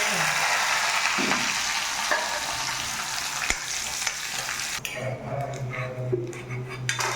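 Steady oil sizzle as cinnamon, cloves and cardamom fry, a few utensil scrapes and clinks; the hiss quiets partway through and a low hum continues beneath.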